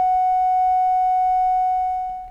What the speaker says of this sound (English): Doesn't matter what shift shape is set to, it's a sine wave.